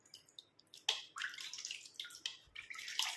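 Water splashing and dripping in quick uneven bursts while hair is rinsed after dyeing, close and moderately loud with no voices.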